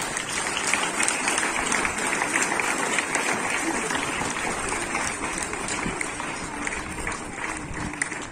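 Steady applause from a school audience at an Independence Day celebration, dense and even throughout, many hands clapping together at a constant moderate-to-loud level with no talk over it.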